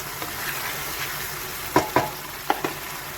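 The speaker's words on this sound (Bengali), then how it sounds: "আমি এইভাবে কষতে থাকবো।" Mutton liver and raw onion stir-fried in a pan for kosha, with a steady sizzle and a few sharp scraping strokes of a spatula, most of them clustered in the second half. No one speaks.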